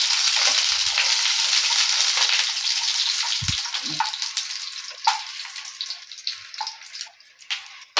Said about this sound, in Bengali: পনিরটাও আমার ভাজা হয়ে গেল, দেখো এবার আমি তুলে নিচ্ছি পনিরটা।